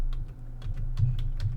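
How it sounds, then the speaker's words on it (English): Fingers typing on a computer keyboard while entering a command at a Windows 11 command prompt, a short run of quick, close keystrokes over a steady low hum. "Then I type Jupyter"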